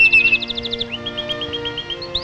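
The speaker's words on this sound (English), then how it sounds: "Like that little old bird up there." A small bird sings up in a tree, a rapid series of bright chirps followed by a run of quicker rising notes, fairly close and clear over a soft background.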